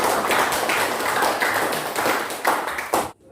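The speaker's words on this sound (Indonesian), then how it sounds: "silakan Anda tepuk tangan dulu untuk Anda" A classroom of students claps for themselves, a brisk burst of close, uneven hand clapping with a few sharper individual claps, stopping abruptly at the end.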